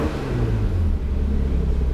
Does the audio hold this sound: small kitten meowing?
no